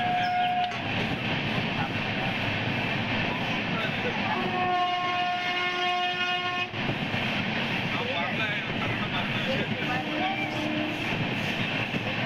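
The Madurai to Kacheguda special express train running through a station without stopping, a loud, steady rumble of wheels and carriages from on board, with a brief horn sounding midway and voices talking over it.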